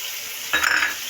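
Chicken, peas and capsicum frying in a pan, starting with a sudden burst of sizzle and stirring midway that stays fairly loud with a low scraping rumble beneath; no voices.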